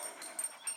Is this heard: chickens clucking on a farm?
no